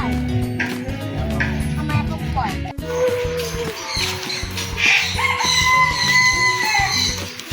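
Chickens cluck and a rooster crows at a cafe outing in Nakhon Pathom, Thailand, the fowl loud and close with steady clucking throughout while people talk nearby.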